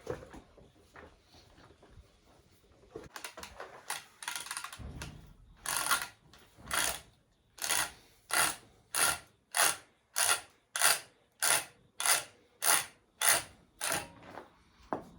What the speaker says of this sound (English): let's cut this pipe, and then we'll thread it.